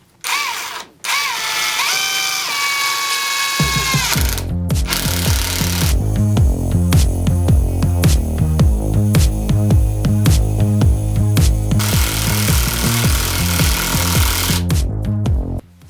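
Ronix impact driver in first gear sinking a 150 mm screw, a steady loud rapid hammering whir that starts after a brief higher motor whine and runs continuously for about twelve seconds before stopping.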